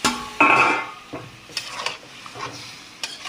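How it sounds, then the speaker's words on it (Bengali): Snakehead fish pieces drop into hot spiced oil in a pan for a curry with potatoes, giving a loud burst of sizzling and frying followed by a few lighter stirring and utensil clinks, close up with no talking. "এবার আমি মাছগুলো দিয়ে দিচ্ছি"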